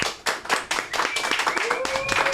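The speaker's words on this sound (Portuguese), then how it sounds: "Salva de palmas, Dr. Nelson Williams." Audience clapping welcomes Dr. Nelson Williams on stage, a dense burst of handclaps with a few sharp peaks, while a whistle-like tone and voices sound over the applause in the second half.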